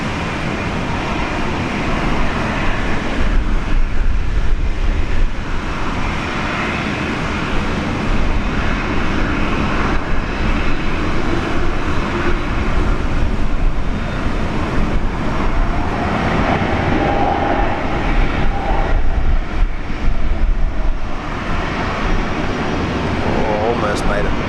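Jet airliner engines rumble at Brisbane International Airport at sunrise, a broad, steady roar that swells and fades over the span and mixes with traffic-like background noise.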